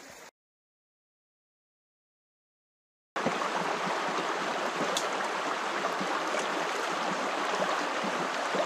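After a stretch of silence, a river's flowing water rushes in as a steady, dense, close wash that continues without a break. It is heard at a stream where a folding gold-mining sluice is being set up.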